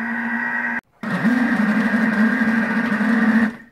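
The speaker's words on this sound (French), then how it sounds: "on entend que le moteur commence à galérer" A stand mixer's motor drones loudly and steadily as it kneads brioche dough under strain. It cuts out briefly, then resumes with a slightly wavering pitch and runs on without speech.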